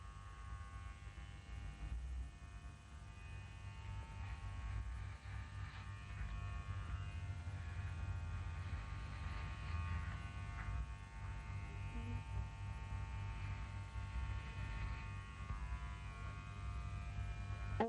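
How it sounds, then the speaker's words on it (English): Electric hair clippers fitted with a guide comb trimming a beard, a steady low mains-like hum and buzz running unbroken and fairly quiet throughout. "Beard trimming so easy when you use your guides."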